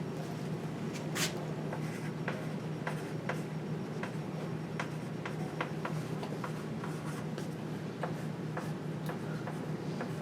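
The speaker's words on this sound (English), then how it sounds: "I'll write it again a little bigger." Math equations are written on a board in a steady run of faint, close taps and light scratchy strokes, over a low, constant room hum with no talking.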